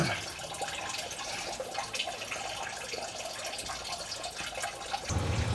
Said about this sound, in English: We're draining the heater core now.